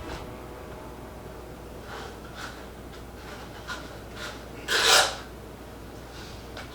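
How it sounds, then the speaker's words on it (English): Sandpaper rubs against an opal inlay tungsten ring in short, faint scraping strokes, a handful spread out with one louder, longer rasp partway through, against a quiet background. "I went ahead and started sanding."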